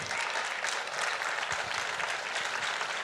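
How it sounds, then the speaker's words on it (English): An audience claps steadily at a political economic speech, a dense, even wash of applause lasting a few seconds without a break and with no voices rising above it. "And you can clap for that."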